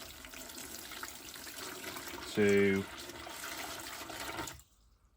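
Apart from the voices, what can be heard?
water from a tap filling a tank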